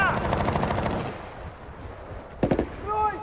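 Machine gun fire in the Battlefield: Bad Company war game, a loud burst at the start, then a quieter lull and a few more close shots, with shouted voices in between.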